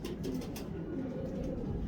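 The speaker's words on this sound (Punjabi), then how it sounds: "ਇਹ ਉਹ ਕਬੂਤਰ ਆ" Racing pigeon cooing softly in low, soft pulses against steady background noise, faint and fairly near, with no talk.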